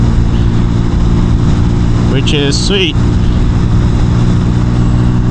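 A Vitacci XMT 250, a naked 250 cc motorcycle cloned from the Honda CB150R, cruises at about 60 with a steady engine hum and wind rush, while a rider talks over it.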